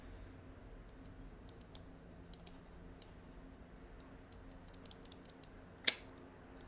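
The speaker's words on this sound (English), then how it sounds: "Will the keyboard work? No, the keyboard doesn't work either." Computer keyboard keys pressed during an NBA 2K10 session, a scattering of light, sharp clicks coming in irregular bursts over a low steady hum, with one louder key strike near the end.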